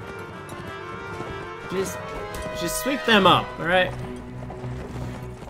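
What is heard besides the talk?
horses galloping on a video game battlefield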